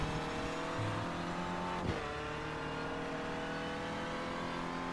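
Onboard engine of a Renault Clio Cup race car in sim racing at Snetterton: a loud, steady engine drone holds throughout, dipping briefly near the two-second mark as if shifting gear, with no voices.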